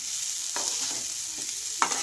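Gobindobhog rice frying slowly in a pan for basanti pulao, with a steady close sizzle and occasional scraping strokes of a spatula stirring the grains.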